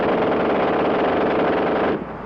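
A World War II-era German machine gun with a very high rate of fire lets off one continuous, loud ripping burst of rapid shots lasting about two seconds before cutting off abruptly.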